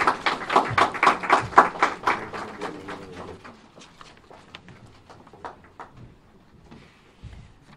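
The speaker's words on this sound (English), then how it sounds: "Round of applause, please" An audience at a counter-trafficking launch event gives a round of applause, a dense burst of clapping that thins out into scattered, fading claps over several seconds.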